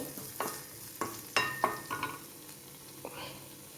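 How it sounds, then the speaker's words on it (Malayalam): Four slit bird's eye chillies sautéing in a pan with beans and papaya, giving soft sizzling under a string of sharp spoon clinks and scrapes as the mix is stirred, close and moderately quiet. "ഇത് ജസ്റ്റ് ഒന്ന് വഴന്ന് വരട്ടെ"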